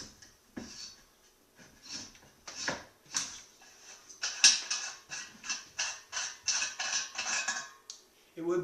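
A cap is screwed down tight on a beer dispenser, giving a series of close, quiet ratcheting clicks and creaks in irregular bursts that grow busier toward the end, with no talking.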